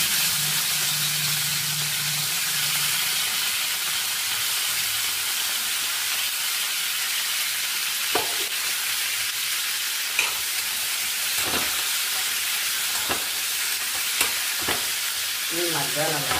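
Tomato pieces frying in hot oil in a pan, a steady close sizzle and hiss throughout with occasional stirring clicks.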